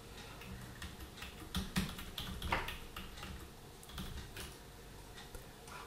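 Typing on a computer keyboard to enter text in AutoCAD, a steady close run of clicking keystrokes with a couple of heavier taps, no voice over it.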